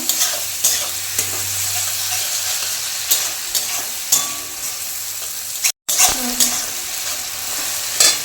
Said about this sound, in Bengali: এরপর আমি টমেটো কুচিটা দিয়ে দেবো। ভালো করে নেড়ে করে নেবো।